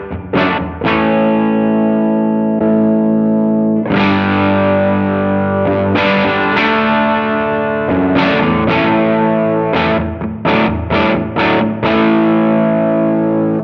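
Electric guitar run through a JAM Pedals Boomster MK2 booster into an overdrive pedal, loud and saturated, with strummed chords and sharp picked stabs ringing out in uneven bursts, played alone without talk.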